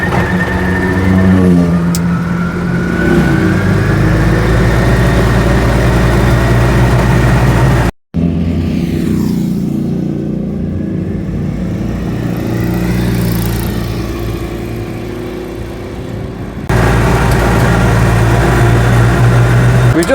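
An Invacar's small engine runs loud and close as it pulls away in first gear, a buzzing, rising drone that briefly cuts out, then settles into a steadier, slightly quieter run before swelling again.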